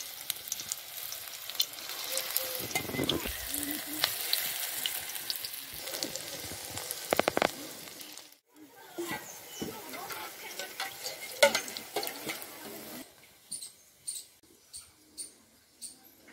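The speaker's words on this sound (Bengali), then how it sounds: "বড়াগুলো এবার ভেজে নিচ্ছি।" Potato flower fritters fry in hot mustard oil in a wok over a wood-fired stove, giving a continuous bubbling sizzle with scattered clicks and stirring scrapes, louder early and thinning toward the end.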